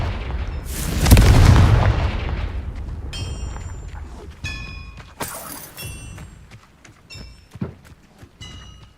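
Confringo blasting curse detonating in Hogwarts Legacy: one heavy close explosion with shattering crash and rumble, then a decaying tail broken by scattered sharp impacts and bright metallic ringing clinks.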